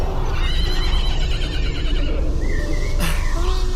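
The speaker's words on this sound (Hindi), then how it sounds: "आपके स्वागत में हाथी, घोड़े और रथों का अनंत सागर सा निकल पड़ा है।" Horses neigh amid a royal welcome procession with elephants and chariots in Ayodhya, a drawn-out whinny over a dense, constant crowd roar, followed by a shorter second call.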